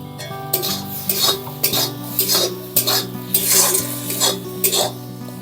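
Spoon stirring a bean (sim) bhorta mashed with salt and a fried onion, garlic and chili paste in a pan, with a series of close scraping strokes and sharp metallic clinks over a low background hum.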